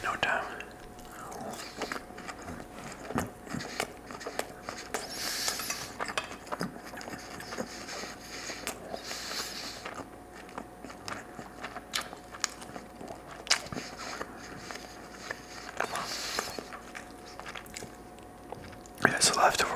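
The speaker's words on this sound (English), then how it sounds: "And this pork chop's tasting pretty good." Chewing and biting on a leftover pork chop close to the mic, with soft wet crunches and mouth sounds recurring throughout, under quiet whispered rambling.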